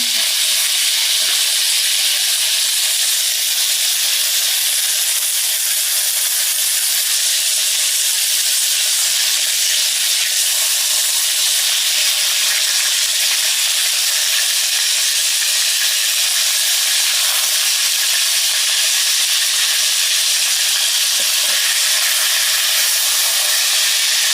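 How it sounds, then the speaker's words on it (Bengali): Spiced fish frying in a pan, giving a steady, loud, bright sizzle of hot oil that runs unbroken throughout, flecked with small crackles and pops, with no voices. "মশলা করা হয়ে গেছে, মাছগুলো উল্টাই দেবো।"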